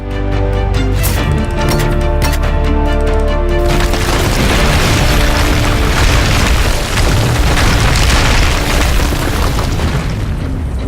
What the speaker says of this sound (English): Alright, so with the statue destroyed